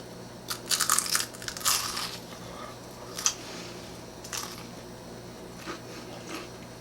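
Crisp crunching bites into an oven-baked sriracha chicken egg roll, a cluster of sharp crackly crunches followed by a few more scattered chews, close and fairly loud.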